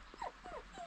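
Dogs at a campsite in Buckland Valley, playing with a thrown ball, give a short burst of soft whimpering yips close by.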